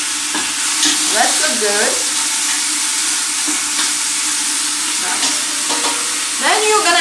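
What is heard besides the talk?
chicken frying in a pot until crispy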